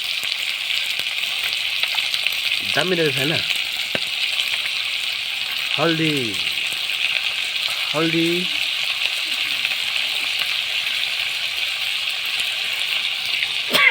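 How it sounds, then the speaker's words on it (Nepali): Local chicken fries in a pan with a steady, loud hiss and sizzle that runs without a break, while a few short remarks are spoken over it. "दामी फ्राई हुँदैछ चिकन। लोकल चिकन हो।"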